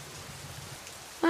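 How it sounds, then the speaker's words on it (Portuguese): Steady rain falls in a Jurassic Park video game, a soft, even hiss of drops that stays low and constant throughout before a brief louder tonal sound cuts in at the very end. "Está chovendo."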